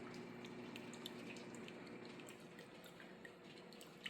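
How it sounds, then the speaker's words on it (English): Cooling water for a home distillation still's reflux column runs steadily through supply and return lines into a bucket, a faint continuous trickle with occasional small drips. "So now I got my cooling water going up to my reflux column."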